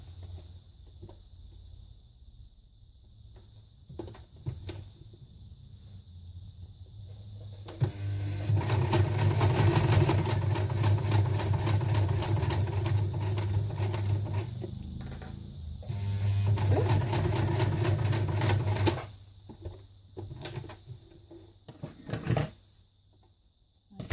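A sewing machine runs noisily in a bursty stretch of rapid mechanical stitching that lasts about ten seconds. Quieter handling and clicks come before and after it.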